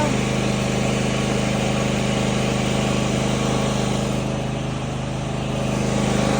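A zero-turn lawn mower's small engine idles steadily after being started on choke, a loud, even hum with a fine rapid pulse and no pauses, no talking.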